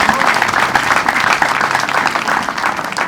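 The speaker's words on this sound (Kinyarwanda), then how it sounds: "Amashyi yacu yadufasha gusangira n'ab'ibyishimo." Audience applause at a celebration in a parish, steady and loud, many hands clapping continuously throughout with no break.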